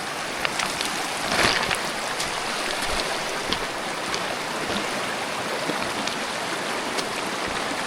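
A river rushes at a crossing in rainy woodland, a broad steady roar of flowing water close by with scattered splashes and no voices.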